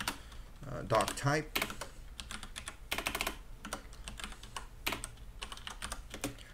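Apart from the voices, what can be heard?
typing code on a computer keyboard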